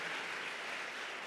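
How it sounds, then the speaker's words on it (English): An audience at a discussion on gun violence prevention applauds in a dense, steady wash of clapping that holds at an even level for the whole brief moment. "That deserves claps."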